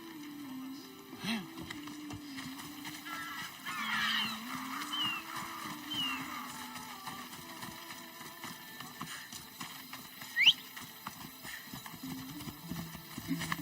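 Horse hooves clip-clop in the video game Destiny 2, a soft, steady rhythm of footfalls running under game ambience and engine-like hum, with one brief louder clatter near the end and no one talking.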